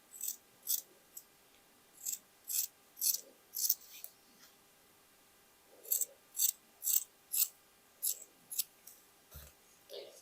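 Scissors snip through denim jacket fabric in a steady series of crisp, close cuts, evenly paced with short gaps and a brief pause midway.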